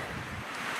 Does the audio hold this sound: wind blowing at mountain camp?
yes